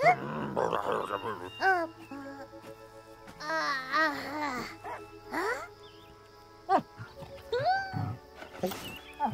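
A dog in the video game Last Day of June gives high whimpering, whining calls in short bursts, mixed with people talking over the game sounds.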